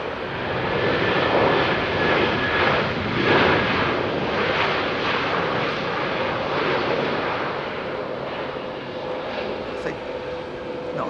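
A jet airliner with CF6 engines at London Heathrow Airport, a loud, steady engine roar that holds throughout and eases slightly toward the end, with a person talking over it.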